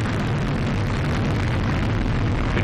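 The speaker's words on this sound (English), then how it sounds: "On the shoulders of Atlas, the SS Deke Slayton II Orbital ATK Cygnus spacecraft soars toward the International Space Station" An Atlas V rocket launching the Orbital ATK Cygnus spacecraft rumbles as a steady, broad roar, distant and continuous, with no voices.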